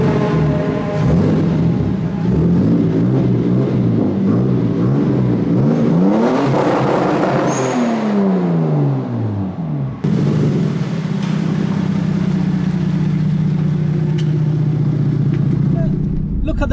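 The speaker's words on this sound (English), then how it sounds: "let's see within a few laps how quick the Supra can go around" Toyota Supra lapping the Silverstone track on a trackday, loud engine revving close by with rising pitch sweeps through gear changes and a sustained high drone, people talking over it.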